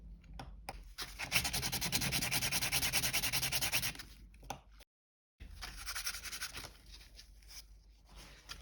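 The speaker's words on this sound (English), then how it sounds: "grab yourself some sandpapers, something like this, wet and dry sandpaper, running from the lowest number rough to smooth, and sand that side of your ring" Wet and dry sandpaper rubbed against a thin resin ring in quick, even strokes, loud and close for several seconds, then briefly silent, then resuming more softly.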